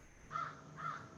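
A crow caws twice in quick succession, clear and moderately near, over quiet outdoor ambience.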